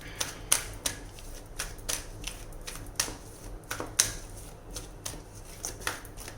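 Tarot cards being shuffled and dropping, a steady run of crisp riffling snaps and light slaps, close and fairly soft, with no talk over them.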